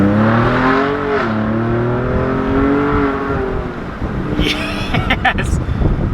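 A 2020 Ford Raptor pickup with an X-pipe exhaust revs loud and close, its engine note rising and holding steady, then breaking into crackling pops near the end, with a voice speaking over it.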